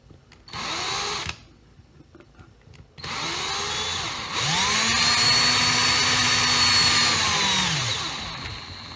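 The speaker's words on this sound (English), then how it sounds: "I'm going to take my drill and put it right at the end of" A power drill drives a screw into a wooden plug on a jon boat, with a short whirring burst, a pause, then a longer sustained whine that rises and strains before cutting off.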